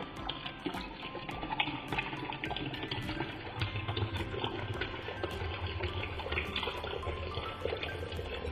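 Drinking water pours steadily into a vessel indoors, a continuous close splashing gush with a slight rise in fullness partway through, no talking.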